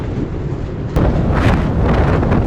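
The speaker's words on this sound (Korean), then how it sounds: "잠시 불다 멈추는 바람이 아닌 밤새 이렇게 바람이 불었고요" Strong wind roars steadily at a clifftop campsite facing Ulsanbawi in Goseong, buffeting a North Face Dome 8 tent, with a louder gust surging in about a second into the clip and continuing.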